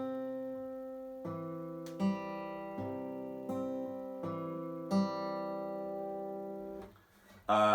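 Acoustic guitar fingerpicking plays a full song intro pattern, six or so evenly spaced plucked chord onsets ringing into each other, close and clean, ending with a brief handling noise.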